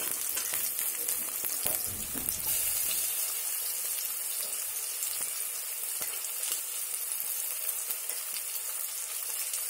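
Onions frying in a pan with ginger-garlic paste, a steady close hiss and sizzle running throughout with a few stirring scrapes, no voices.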